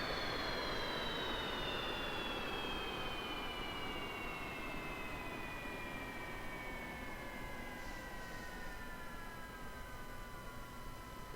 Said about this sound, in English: And the engine will spin down.